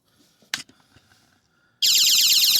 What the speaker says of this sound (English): When this thing gets wet, this thing will alarm.